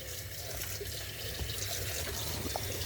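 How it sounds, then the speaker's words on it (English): Steady running water from a kitchen tap filling a cup, a constant broadband rush that continues evenly throughout with a few faint clinks. "Fill it up with water."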